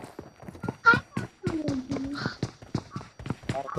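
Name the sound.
horse hooves clip-clopping in video game BGMI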